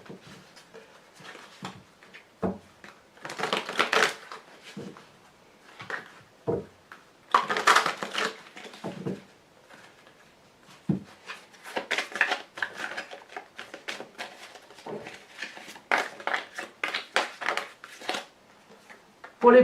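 Oracle cards rustle and slide as they are shuffled, drawn and laid down, giving a long series of soft papery flicks and taps at close range.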